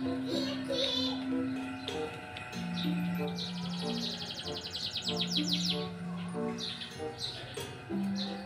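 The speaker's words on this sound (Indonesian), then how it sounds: "di depan saya ini ada seekor burung jalak" A Javan pied starling calls close by in varied whistles, chatters and buzzy trills, some notes held, with faint background chirping.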